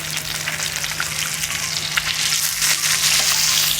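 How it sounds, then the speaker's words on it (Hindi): Fish fries on a flat tawa griddle, giving a loud, continuous close-up sizzle with crackling spatter that swells slightly toward the end, with no voices. "ये देखें कितना ज़बरदस्त कलर भी आ रहा है और अच्छे से फ्राई भी हो रही है फ़िश।"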